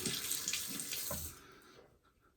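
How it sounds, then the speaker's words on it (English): Water from a tap runs steadily as a face is rinsed during a wet shave, splashing for over a second before cutting off to near silence. "Rinse that off a little bit."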